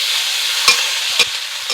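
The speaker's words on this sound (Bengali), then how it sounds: "পেঁয়াজ কুচি দিয়ে দেব, টমেটো কুচি দিয়ে দেব। এটাকে একটু ভালো করে ভেজে নেব।" Panch phoron, chopped onion and tomato frying in a pan with a steady, loud, close sizzle, broken by two or three quick taps of a stirring spoon.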